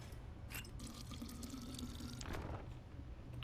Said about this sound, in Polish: I woda.